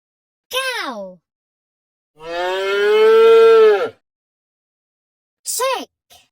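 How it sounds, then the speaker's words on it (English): A cow moos once in a long, loud, sustained low call, set between brief spoken words before and after in an English animal-vocabulary lesson. "cow"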